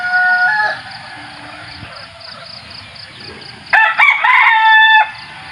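A mestizo fighting rooster with signal markings crows nearby, one loud crow at the start and a second strong crow a few seconds later, with quiet background between.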